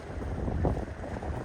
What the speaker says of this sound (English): Okay, sorry about the wind.